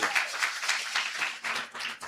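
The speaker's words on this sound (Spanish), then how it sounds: "Um aplauso ao Senhor." Scattered hand claps from a church congregation during a worship service in Bonaire come in short uneven bursts, fairly faint and a little distant, for about two seconds.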